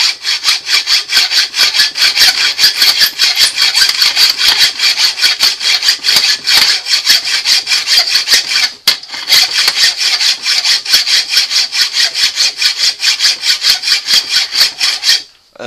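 A hand saw cuts through metal on a Suzuki LT 50 ATV, loud, close and steady back-and-forth strokes in a fast even rhythm, with one short pause midway before the sawing resumes and then stops.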